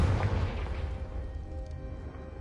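A Confringo fire spell explodes in a Harry Potter video game, a deep booming blast at the start that fades into a low rumbling tail, moderately loud and with no voices over it.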